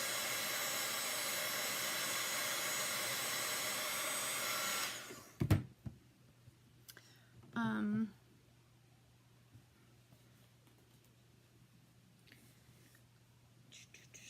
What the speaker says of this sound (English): let's just for good measure take out our little dryer here